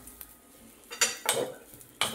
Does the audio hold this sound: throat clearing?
no